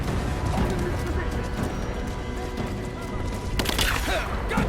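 Gunfire rings out in a Rise of the Tomb Raider firefight, with repeated sharp shots and cracks scattered through a dense battle mix and a louder burst near the end, all under ongoing voices.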